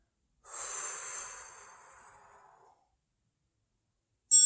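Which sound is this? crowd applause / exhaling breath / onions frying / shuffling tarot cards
exhaling breath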